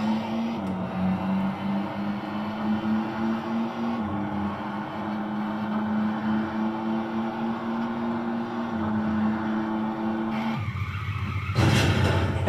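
A car in a Wii racing game slides with the handbrake on, a long, smooth engine drone with a steady tire skid that shifts pitch a few times before a brief louder burst at the end.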